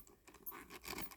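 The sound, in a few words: chain rattling inside a Dooney & Bourke handbag package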